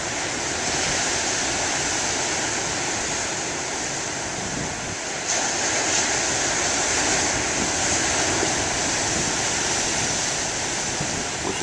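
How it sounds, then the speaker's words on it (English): Moderate ocean waves break on the shore in a continuous, loud wash of surf with a slight surge partway through and faint wind rumble beneath, and no voices. "getting some big waves here"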